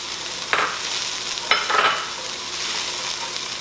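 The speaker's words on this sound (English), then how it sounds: "I mix it in before I put in fluid. Coat the veggies." Spices stirred into vegetables frying in a pot for a chicken and banana stew: two or three scraping stirs over a continuous close sizzle, no voices.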